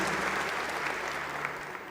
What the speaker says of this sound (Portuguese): A todos eles uma grande salva de palmas